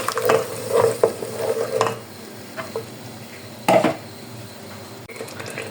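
Paste of two large tomatoes tipped into frying garlic ginger paste for green chickpea sabzi, bursts of sizzling and spoon scraping against the pan, loud at first, then quieter with a sharp clatter midway.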